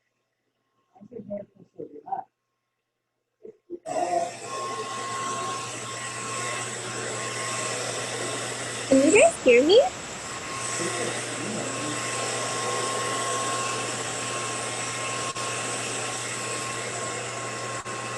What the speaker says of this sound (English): Now with that blow dryer blowing kind of hard like that.